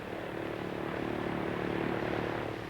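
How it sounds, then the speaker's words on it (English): Early propeller airliners flying overhead, a steady broad engine drone with a low tonal hum that swells slightly and holds through the whole stretch, fairly distant and with no voices. "They come and go, these planes, summer and winter, day and night,"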